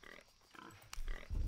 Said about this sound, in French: Il commence à m'énerver le cochon là